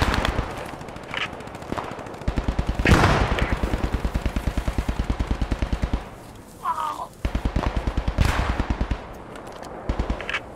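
Machine gun fire in Post Scriptum, a WWII shooter: long rapid automatic bursts of evenly spaced shots, loud and close, broken by brief pauses and a few heavier blasts, with voices over the din.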